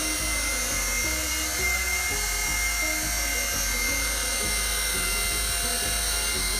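An RC helicopter hovering in slow rotation practice gives a steady high-pitched motor and rotor whine, continuous and fairly loud throughout, with a constant low hum underneath.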